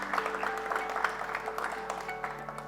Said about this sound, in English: Can I have an applause for Swapnil?